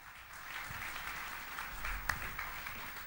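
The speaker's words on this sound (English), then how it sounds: "Give him a big round of applause." Faint, distant audience applause for a speaker at a conference in Colombo, Sri Lanka, a soft continuous patter of clapping with a low background hum.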